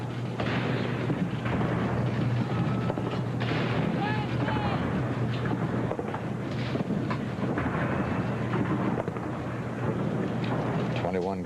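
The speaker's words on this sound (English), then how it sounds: "Gun salute" Ceremonial gun salute fired by the Army salute gun platoon of the 3rd Infantry Regiment at a Washington presidential inauguration, heavy booms under continuous crowd noise and a steady low hum, with a voice talking.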